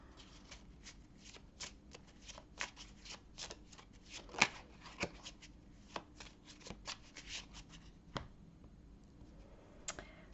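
Tarot cards being shuffled and cut by hand, close and quiet, a series of crisp riffling and slapping bursts at an irregular pace, with one sharper snap near the middle and no talking.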